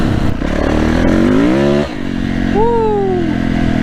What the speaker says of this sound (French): c'est quand même une sacrée moto